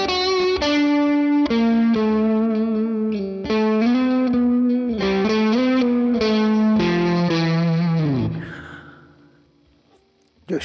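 An electric guitar played through the built-in reverb of a Morgan SW50R amp, a sequence of sustained, distorted notes and chords that ends in a decaying reverb tail, loud and alone.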